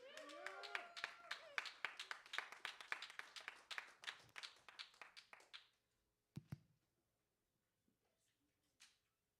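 Audience at an open-stage comedy night claps for an incoming comedian, a dense burst of close, brisk handclaps that thins out and stops after about six seconds, followed by a couple of faint knocks in a quiet room.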